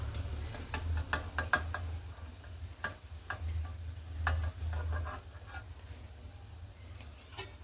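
Snacks fry in hot oil in a home kitchen, a soft steady sizzle broken by irregular ticks and scraping stirs, fairly quiet and with no talk.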